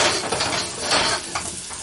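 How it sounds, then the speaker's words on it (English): Garlic sizzles in hot oil in a pan, a steady close crackle with brief brighter bursts and faint clinks of cookware, no talking. "You hear that? Just that nice little sizzle."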